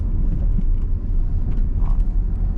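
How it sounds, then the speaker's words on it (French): A car's engine pulls steadily from inside the cabin as it speeds up again through the gears, a continuous low rumble with no talk over it. "Et on réaccélère. On réaccélère encore."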